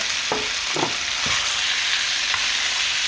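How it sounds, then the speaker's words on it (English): Seasoned beef dropping into hot cooking oil in a stir fry pan, a loud steady sizzle with a few sharp splashing bursts as the pieces go in. "once your cooking oil already heated again, we can go ahead and start putting our beef that we seasoned"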